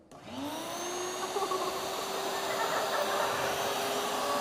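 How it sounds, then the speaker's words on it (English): A vacuum cleaner switches on and spins up, its motor whine rising in pitch and then settling into a steady hissing drone that runs throughout. "we're going to see what happens when we turn on the vacuum cleaner"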